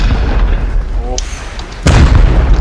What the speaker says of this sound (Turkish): Aa roket attı.